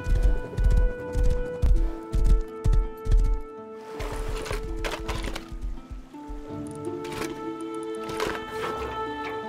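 A horse in the Rust video game gallops with rapid, loud rhythmic hoof clops, then the pace eases into softer, splashy steps over ambient game sounds.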